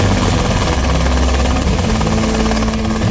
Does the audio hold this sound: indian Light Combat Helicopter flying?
yes